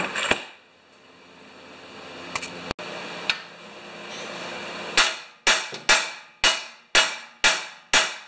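Metal clanks from hammering a part on a 30-inch Craftsman snowblower: a few scattered strikes, then a loud, close series of evenly spaced ringing blows that decay quickly.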